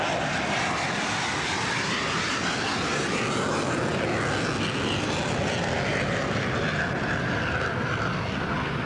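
An airplane flies by at a naval air show at Point Mugu, its engine roar loud and steady throughout with a slowly shifting pitch as it passes.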